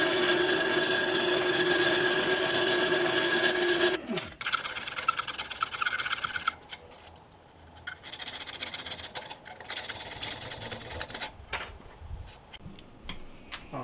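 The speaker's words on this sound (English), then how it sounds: "I'm going to go and sand the edges" The edges of a handmade knife sheath are sanded with a steady, close rasping hum for about four seconds, then brief scrapes and scattered handling noises follow, with no voices.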